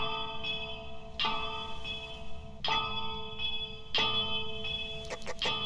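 Bell ringing from above in a dark lighthouse setting in Phasmophobia, a few separate resonant strikes spaced about a second apart, faint and ringing out between hits, with a quicker cluster near the end.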